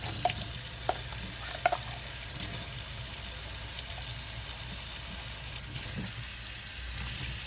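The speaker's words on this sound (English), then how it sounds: "So washing every part down" Parts of a Dyson DC33 vacuum being washed with dish soap under running water at a sink, a steady close hiss of flowing water with occasional small knocks and splashes, no talking.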